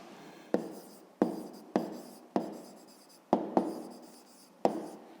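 Pen strokes on paper during a fifth-grade math exercise, a series of short scratchy bursts each starting with a crisp tap and trailing off, about six or seven strokes in a quiet room.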